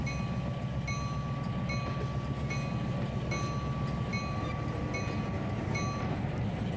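A train rolls along track in Trainz 2022 with a steady, loud rumble and faint rhythmic wheel clicks at regular intervals throughout, with no voices.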